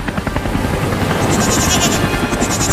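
A cartoon goat bleats repeatedly, loud and near, over a continuous helicopter rotor whir.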